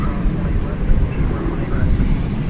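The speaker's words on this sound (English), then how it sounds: "That's Flight 2567 to Portland, Oregon, Airbus A320 Neo." Airbus A320neo airliner at DFW Airport at night, a steady low engine rumble mixed with wind noise, continuous and moderately loud.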